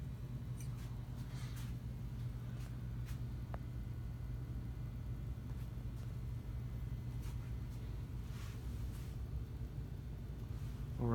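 A Gulf Coast Renaissance ceiling fan runs on low speed in reverse, giving a faint, steady low hum and rumble that holds evenly throughout, with no talking.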